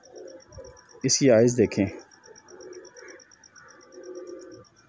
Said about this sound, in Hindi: ये जी दोस्तों पहला बच्चा देखें माशाल्लाह